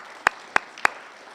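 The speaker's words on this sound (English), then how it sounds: "So let's give a big round of applause for their support." Three sharp, evenly spaced hand claps at a workplace conference in Alberta, close and distinct over a quiet room, rather than a full round of applause.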